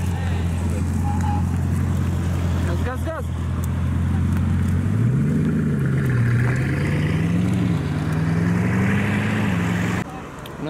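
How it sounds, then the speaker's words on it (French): A Bugatti Chiron 110 ans edition pulls away with a loud, steady engine drone whose pitch climbs and wavers as the car accelerates out, close by throughout the run. "On a une Chiron qui sort"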